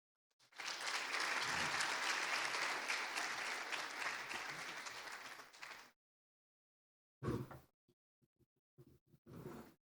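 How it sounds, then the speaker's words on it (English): Audience applause for a minister at a teacher education indaba, a broad steady round of clapping for about five seconds that stops abruptly, followed by a few scattered brief bursts and isolated claps. "Another round of applause for the Honorable Minister"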